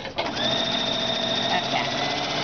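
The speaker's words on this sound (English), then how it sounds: "I'm just going to sew this side" A sewing machine stitches a quilt block at speed, a close steady mechanical hum and rattle running throughout.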